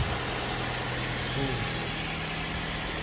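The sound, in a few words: Toyota Yaris 2019 car engine starting and idling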